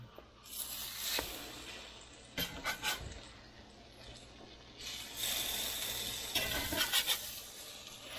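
French toast fries in a pan over medium heat, a steady broadband sizzle with crackling bursts and a few louder spatters, close and continuous, with no talking.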